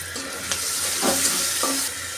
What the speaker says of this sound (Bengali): এখন আমি পেঁয়াজটা ভালো করে ভাজা ভাজা করে নিব